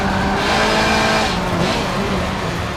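A race car engine in the Forza Motorsport 7 video game roars in a steady, loud, dense drone that swells slightly, with no talking over it.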